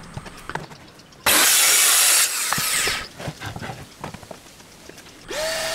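A homemade track saw cuts a wooden board to length in a workshop. A loud burst of blade noise is followed by quieter scraping and handling sounds, and a second cut begins near the end.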